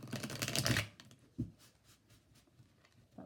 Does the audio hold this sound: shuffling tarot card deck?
yes